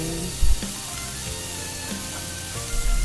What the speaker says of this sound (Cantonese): 切好咗啲四季豆之後呢，都係倒埋落鑊度炒下佢